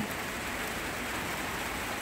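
Heavy morning rain in a garden in the Netherlands makes a dense, even hiss of falling drops, continuous and fairly close, with no voices.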